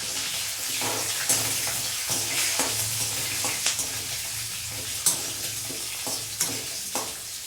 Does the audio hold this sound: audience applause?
no